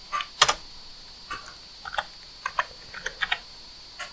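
Computer keyboard keys tapped in short irregular bursts, one louder cluster early then lighter scattered clicks, close and fairly quiet over a steady faint hum, no voices.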